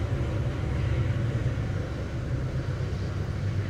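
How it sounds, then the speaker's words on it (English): A freight train passing near a home by the railway line, a loud continuous low rumble and roar holding steady throughout with no talking. "That was a freight train."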